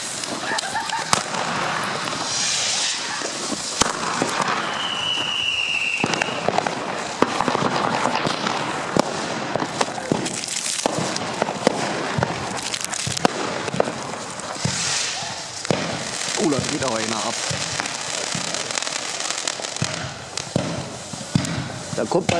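Firework battery going off outdoors on New Year's Eve, a dense run of cracks and bangs mixed with crowd noise while people talk nearby.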